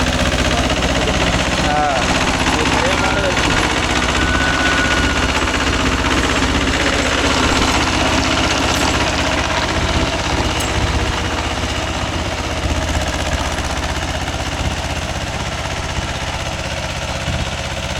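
Mahindra 265 DI tractor powering a GAS 36-blade rotavator through a field, a steady loud diesel drone with churning rumble throughout, with people talking over it.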